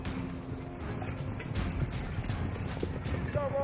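Horse hooves clip-clop steadily through a noisy outdoor scene with people talking over them.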